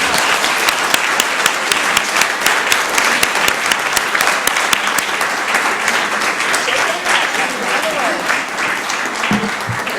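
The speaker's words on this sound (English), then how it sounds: "Let's give her another round of applause." Loud, sustained applause from the audience at a Columbus, Georgia city council meeting, many hands clapping steadily for the full ten seconds.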